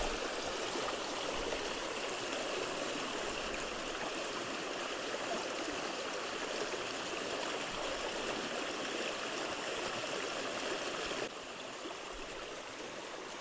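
Water rushes in a steady, dense wash, a stream flowing close by on a Sunshine Coast property, with constant broadband noise that softens slightly near the end.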